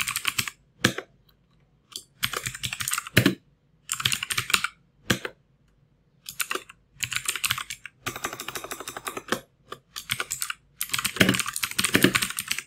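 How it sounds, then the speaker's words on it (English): Rapid clicky typing on a computer keyboard, close and clear, in bursts of keystrokes broken by short pauses and with no voices. "let's just type in"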